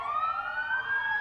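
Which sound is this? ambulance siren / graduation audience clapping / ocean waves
ambulance siren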